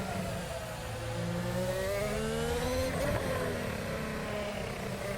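Formula 1 car with a Honda power unit driven at Silverstone in a racing video game, a steady high engine note rising and falling through gear changes, loud and continuous without talk.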